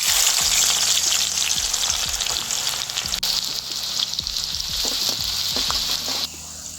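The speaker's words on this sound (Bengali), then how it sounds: "প্রথমে কিছু পেঁয়াজ বেরেস্তা করে ভেজে নেব" Onions frying in hot oil in a kadai to make beresta for biriyani give a loud, steady, close sizzle that continues throughout, easing slightly near the end.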